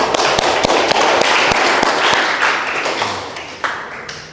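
Classroom applause from a group of pupils, a dense burst of clapping with sharp individual claps standing out, loud and close, gradually thinning toward the end.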